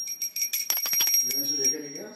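A small hand bell rings briefly during a home puja offering of fruit and salad to Laddu Gopal, with bright metallic strikes at the start, followed by someone speaking close by.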